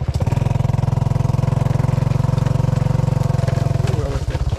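A motorcycle engine idles close by with a loud, steady, rapid chugging pulse that runs evenly for about four seconds before the rhythm falters and breaks up near the end.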